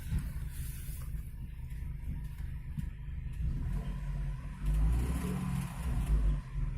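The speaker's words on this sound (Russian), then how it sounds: "Даю газу, стук усиливается." An Opel Astra G 1.6 engine with a knocking fault, idling with a low rumble and then revved twice, the throttle blips swelling loudly near the microphone, no talk.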